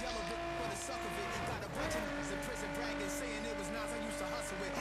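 A car in the video game The Crew on Xbox One races into oncoming traffic, with a steady, moderately loud engine drone that briefly dips and then resumes, over background game noise.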